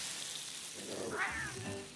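A single cat meow rises briefly around the middle, fairly faint over a steady background hiss and low rumble.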